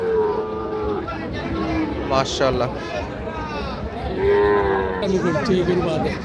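Cattle moo several times, long low calls, under steady chatter from people nearby at a cattle market in Bangladesh.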